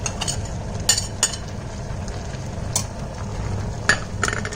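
Pork stir-fried in a pan, a steady sizzle with repeated scraping and clinking of a spatula against the metal at irregular intervals.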